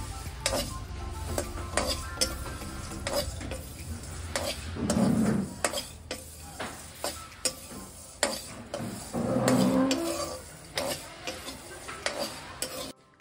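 Coconut pieces, peanuts, coriander seeds, fenugreek, shahi jeera, cardamom and cloves dry-roasting in a pan, heard as soft stirring scrapes with light rattling and faint sizzle, including two louder stirring swells, with no talking.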